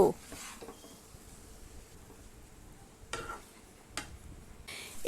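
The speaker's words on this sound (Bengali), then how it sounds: "এবার মশলার সাথে ওল আর আলুটাকে 3 থেকে 4 মিনিট খুব ভালো করে কষিয়ে নেব" Elephant foot yam and potato stir-fried with spices in a pan: a quiet background sizzle broken by a few scraping stirs and utensil taps, fairly faint and sparse.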